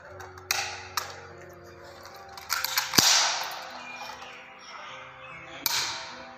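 INSAS rifle magazine being swapped during a stoppage drill on a firing range: a few sharp metallic clicks and taps, with one crisp snap near the middle, close and fairly quiet against a steady low hum.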